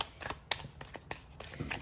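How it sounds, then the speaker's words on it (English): Cards are shuffled and split in a few quick riffling bursts and soft slaps, close and fairly quiet. "Let's split it first. I'm feeling, called to split it first. And then shuffle."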